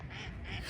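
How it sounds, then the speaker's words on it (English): Ducks quack faintly in the distance at Hamilton Lake, a short burst of calls under light outdoor background noise. "You can hear the ducks quacking in the background."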